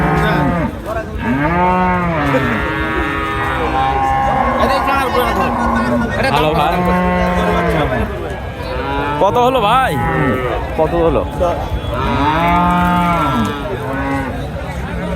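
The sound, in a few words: cows mooing at a cattle market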